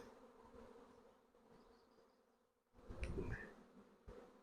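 A swarm of honey bees buzzes steadily at a hive, a dense continuous drone that swells louder toward the end, close by and with no talking.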